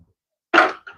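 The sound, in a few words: dog barking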